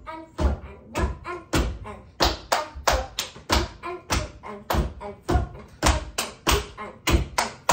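A child claps or taps a rhythm with a steady beat for a Level B music examination, a clear sequence of about twenty crisp, close hand strikes with evenly spaced pulses and a few quicker pairs.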